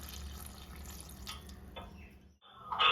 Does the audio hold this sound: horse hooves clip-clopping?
no